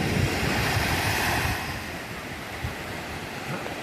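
Sea waves surging against the shore, a steady broadband wash with wind buffeting the microphone, louder in the first moments then settling into a continuous rolling roar with no speech.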